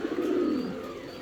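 A German Shield fancy pigeon gives a single soft, low coo, close by and clear against a quiet background.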